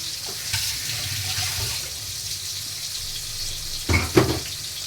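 Onions caramelizing in a pan with sugar and black pepper: a steady, close sizzle of frying runs throughout, with a couple of brief stirring knocks near the end.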